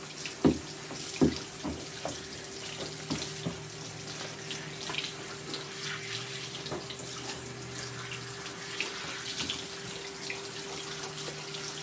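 A tap runs steadily while a mini doodle is washed and groomed with a brush, giving a continuous water hiss broken by splashes and knocks, with no voices.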